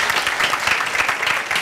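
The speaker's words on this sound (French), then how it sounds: "On va applaudir très fort pour Madame Sylvie" Audience at a seniors' aperitif lunch gathering applauding loudly for a woman, a full, continuous roar of many hands clapping close by for the whole stretch, without speech.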